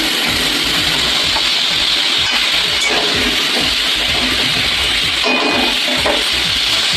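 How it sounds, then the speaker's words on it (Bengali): Potatoes frying in oil make a continuous, fairly loud crackling sizzle that stays even throughout, with faint irregular pops and nobody speaking. "তাহলে আলুগুলো ভেজে নিই।"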